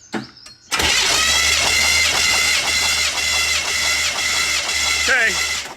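A car engine with an open cylinder is cranked during a compression test, giving a loud, rhythmic, steady churning for about four seconds that starts abruptly and ends with a brief squeak, while a voice talks faintly underneath.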